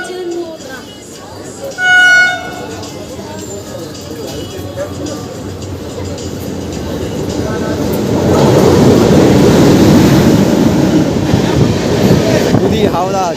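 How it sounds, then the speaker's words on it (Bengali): A MEMU passenger train at Panskura junction approaches with a low rumble and rail clatter that swell steadily louder and close by, after a brief tonal signal early on. "ট্রেন চলে আসলো আমাদের এখন পাঁশকুড়া জংশন।"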